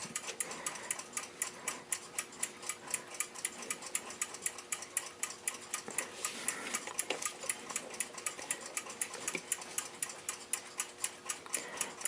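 A 1929 Westclox Big Ben alarm clock being turned while its time is set: a fast, steady mechanical ticking runs close and continuous throughout, with occasional small clicks and knocks from handling.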